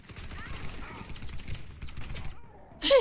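A Calico M951S automatic sniper rifle fires in Warface as a rapid, rattling stream of shots, steady for about two seconds, then a brief pause and a sudden loud burst at the end.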